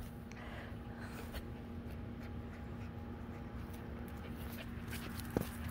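A fox pup whimpers and snuffles faintly close by against a quiet indoor hum, with soft scuffling and a brief sharp sound near the end.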